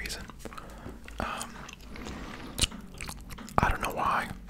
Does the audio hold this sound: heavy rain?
no